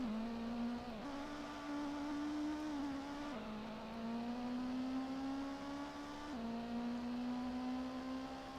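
Toyota Supra race car with a fixed rear wing in Gran Turismo, its engine droning steadily and loud throughout, the pitch dipping at each gear shift and then climbing again under acceleration.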